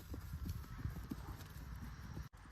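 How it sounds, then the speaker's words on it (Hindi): Hooves clip-clop at a quick steady gait as a decorated mare approaches on a farm, fairly close but faint, with a brief whinny and murmuring voices in the background. "इस बार घोड़ी पूरी सज के आ रही है, क्या कहने, पूरी चाल पर आ रही है"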